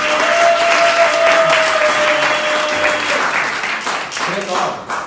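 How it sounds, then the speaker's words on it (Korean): A church audience bursts into loud, sustained clapping during a talk event, the dense applause holding steady before thinning toward the end, with a sustained tone and faint voices underneath. "여러분 박수 한번 부탁드립니다."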